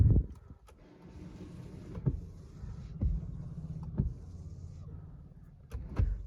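Bosch frameless wiper blades sweep across the windshield of a Brezza in repeated strokes, with a faint motor whine and sharp thumps as each stroke reverses, at roughly one-second intervals.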